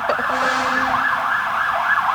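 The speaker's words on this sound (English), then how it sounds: "You're gonna have to add the siren in." A fire truck siren wails steadily in a continuous rising and falling sweep, loud and fairly close, without any talking over it.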